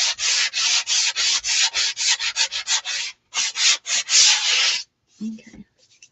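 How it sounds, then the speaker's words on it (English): A wooden door round is hand sanded in quick, even back-and-forth strokes, a dry rasping scrape repeated about a dozen times up close, then a pause, a soft knock and a few light scuffs. "Or if you don't like the sound of sanding"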